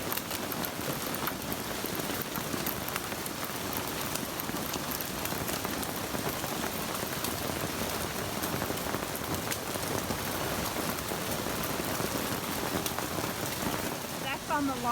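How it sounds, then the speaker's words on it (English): Large hailstones pelt down outside near an outdoor grill, making a dense, continuous hiss and clatter of impacts at steady loudness throughout, with no talk over it. "That's on the larger size of the hail that's coming down"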